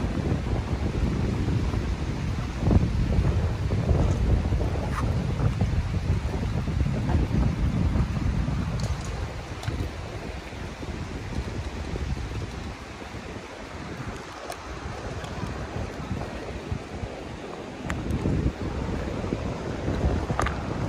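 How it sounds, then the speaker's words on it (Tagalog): Strong wind roars steadily across the microphone beside a river, mixed with surf and water noise, loud and continuous throughout with no voices. "Lakas ng hangin."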